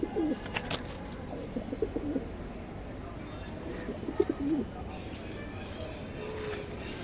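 Racing pigeons in a loft give soft, low, repeated coos in short bursts, fairly close, while someone talks over them and faint chirps and rustles fill the background.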